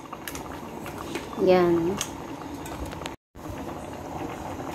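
Tofu soup with meatballs bubbles and gurgles at a gentle simmer in a pot, with a brief louder burble and a short spoken word over it.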